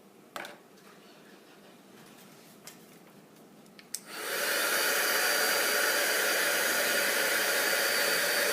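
A few light taps and clicks, then a handheld hair dryer switches on and blows with a steady, loud whooshing hum, drying craft ink.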